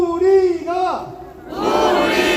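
A large crowd at a political rally at Gwanghwamun shouts slogans together, a loud amplified leading voice followed by a massed roar of many voices answering in unison.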